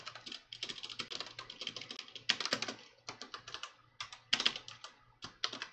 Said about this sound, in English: Can't type today, apparently.